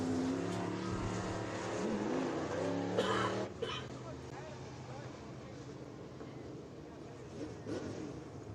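Race cars at Electric City Speedway roll out onto the track between heat races, steady engine drone with a brief rev, heard at a distance over background voices.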